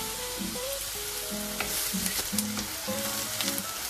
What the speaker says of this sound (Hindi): तो अनियन हमारा बटर में सौते हो गया है, लाइट सौते हो गया है।